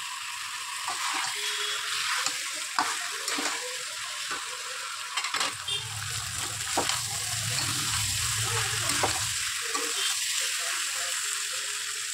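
Water poured into a curry pan of potato, pointed gourd and prawns: stirring scrapes over a sizzle, then a loud rushing gush lasting a few seconds midway before the scraping resumes.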